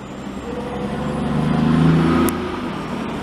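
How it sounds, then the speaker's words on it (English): Dump trucks roll into a snow dump site in Montreal in winter, their engines rumbling steadily and swelling as one passes close by, with no one speaking. "Them trucks keep on coming, baby."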